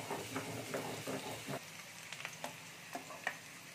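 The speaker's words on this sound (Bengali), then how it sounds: "কড়াইতে এবার কেটে রাখা আলু দিয়ে দেব।" Cut potatoes frying in a wok for a Bengali stingray curry, a hissing sizzle with scattered clinks and knocks of stirring, close and fairly quiet.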